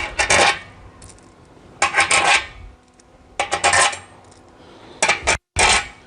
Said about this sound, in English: Now we can go ahead and install all the rest of the bolts here.